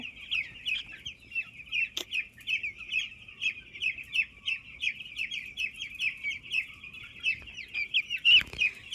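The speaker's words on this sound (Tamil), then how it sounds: "பத்து நாளில் இந்த கோழி குஞ்சியோட பாருங்கள்." Chickens on a poultry farm cluck in a rapid, continuous series of short calls, fairly faint, with a sharper squawk near the end and no voices.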